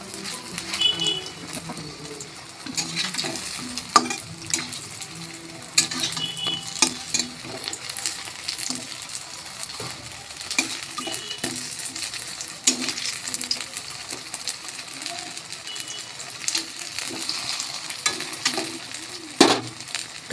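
Aloo paratha frying in a pan gives a soft, steady sizzle with intermittent scraping and stirring clicks, fairly close, while birds coo faintly in the background.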